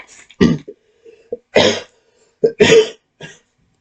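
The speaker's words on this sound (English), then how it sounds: "got a cough" Several harsh coughs in short bursts, close by, with brief throat-clearing sounds between them and pauses of quiet.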